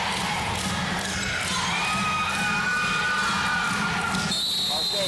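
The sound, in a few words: crowd noise from the Athens fans in a small gym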